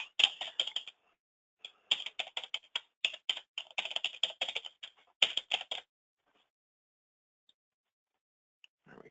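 Someone types a new password on a computer keyboard in quick bursts of crisp, close key clicks, pausing briefly, then falling silent for the last few seconds.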